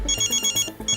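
A phone ringtone chirps in rapid repeated electronic pulses, close and clear, with no talking.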